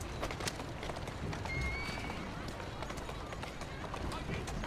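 A horse pulling a carriage in the video game Assassin's Creed Syndicate trots with steady clip-clop hoofbeats and gives a whinny, while a person talks over it.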